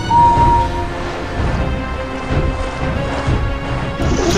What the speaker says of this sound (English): Look, the ice is breaking, the ice is breaking, the ice is breaking!